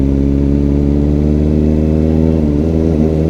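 A Kawasaki ZX-4RR sport bike engine runs loud and close with a steady, smooth buzzing tone that rises slightly near the end, no voices.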